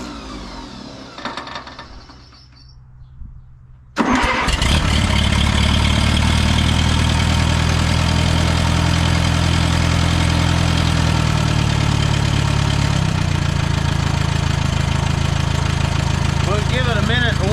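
An Allis-Chalmers B tractor engine is started and settles into a loud, steady idle while warming up, a close, even low rumble that runs on after a short quiet stretch of talk.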